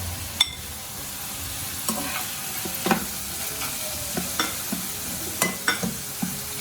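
Vegetables for egg fried rice are stir-fried in a pan, with a steady sizzle broken by irregular scrapes and clacks of the spatula against the pan. The cooking is close by and there is no speech.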